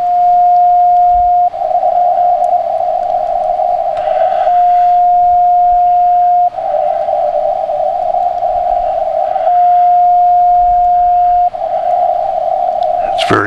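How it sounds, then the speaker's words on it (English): Amateur radio moonbounce signal, a steady carrier tone with longer stronger pulses recurring every few seconds, a faint echo returned off the moon, heard through a radio receiver over a hiss of static. "you will hear the signal bouncing off the moon"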